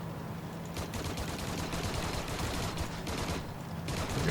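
Rear gunner of a Messerschmitt Me 410 B-2 in a flight video game fires its machine gun in a steady rattling stream of rapid bursts over engine drone.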